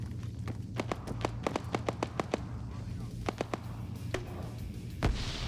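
Rapid footsteps in a first-person shooter video game, a quick run of sharp taps followed by a few more scattered steps, faint beside a low hum.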